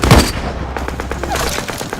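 A single sharp gunshot bursts out at the start, followed by a lingering rumble and noisy ambience.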